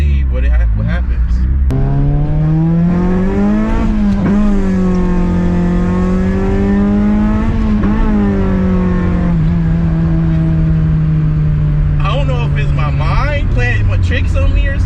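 Honda Prelude engine revving while driving after a new fuel pressure regulator, pitch rising and falling through the gears around VTEC crossover, loud and continuous in the cabin with a voice over the top.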